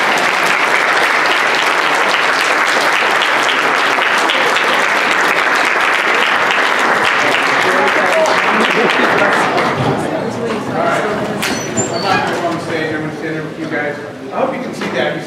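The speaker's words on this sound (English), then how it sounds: "And give him a round of applause." A morning presentation audience gives a long, loud round of applause with some cheering, steady for several seconds before thinning into scattered claps and chatter.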